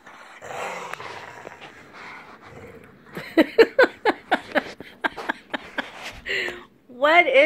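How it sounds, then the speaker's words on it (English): A puppy makes a series of short, rhythmic growling grumbles, close and moderately loud, with people talking around it before and after. "I'm a mean and ferocious puppy."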